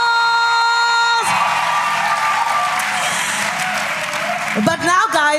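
A rally crowd of activists at a Freedom Day 2025 event bursts into applause with whoops and yells, loud and dense, after a musical tone cuts off, with voices rising near the end.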